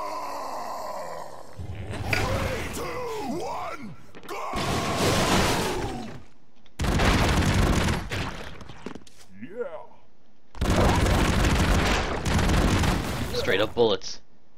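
Gunfire and explosions in the game Broforce, coming in several loud bursts of rapid shots and blasts separated by short quiet gaps, with squeaky chirps between, and someone talking at times.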